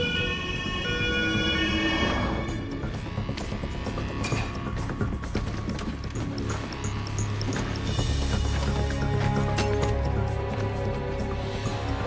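An ambulance siren wails in a steady, continuous cycle over rumbling traffic, loud and close throughout, with a dense background of vehicle noise.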